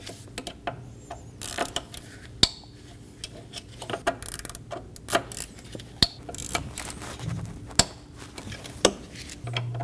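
A ratchet tightens the throttle body bolts on a 2012-2022 Volkswagen Passat with the 2.5L five-cylinder engine. Close, sparse clicks and sharp metallic ticks come in short bursts against a quiet background.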